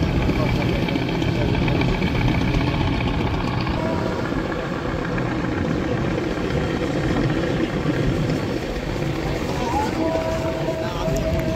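A passenger river launch turns at a river bend, its engine a loud, steady low drone with broad churning noise throughout, and another launch approaches from the opposite direction.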